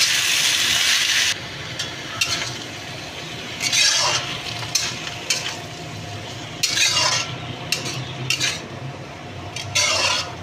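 Spinach being stirred in a pan with fried beans, brinjal and potato: repeated scraping strokes of a utensil against the pan over a soft sizzle, with a few clinks, close and moderately loud, no talking.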